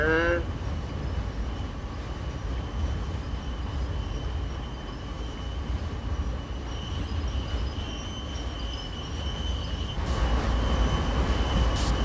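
An American locomotive in Train Sim World 2 slows to a stop, with a steady low rumble of the engine and rolling wagons, a brief high brake squeal at the start, and someone speaking Indonesian over it.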